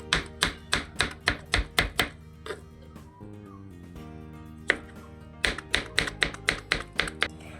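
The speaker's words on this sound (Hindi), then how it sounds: "छीलने के बाद काट लूँगा" A knife chopping peeled melon (kharbuja) on a board in a home kitchen, with steady rhythmic thuds in quick bursts, a pause, then another run of close, crisp chops.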